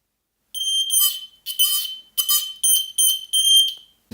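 A converted smoke detector alarm sounds in a series of about six shrill, piercing electronic beeps with short gaps between them, somewhat subdued rather than full volume, and no talking.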